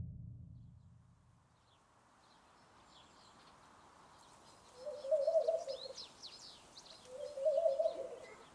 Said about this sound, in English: Now we follow the sound of a dove as it perches on an olive tree in a garden